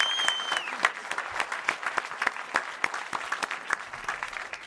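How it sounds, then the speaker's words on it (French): Audience applause at a comedy festival jury introduction in Alpe d'Huez, steady dense clapping with sharper individual claps standing out, moderately loud and continuous throughout, with no talking over it. "Je vous demande d'applaudir Léa Drucker et Michael Youn."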